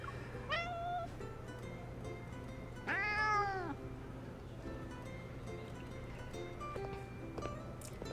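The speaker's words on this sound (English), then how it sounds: "I follow the sound to find Xavier behind a cat tree, confronting an unfamiliar kitty." Cat meowing in the Love and Deepspace video game, with a short meow followed by a longer, louder drawn-out meow and a faint later mew over a steady low background hum.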